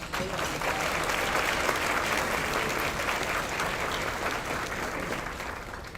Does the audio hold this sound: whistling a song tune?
no